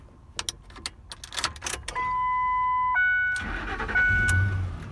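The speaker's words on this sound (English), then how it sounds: "let's try it out, see if it works." A Ford car started with a freshly cloned key: a short jingle of keys and a click, then the starter whirs with a steady electronic chime overhead and the engine catches and settles into a low idle.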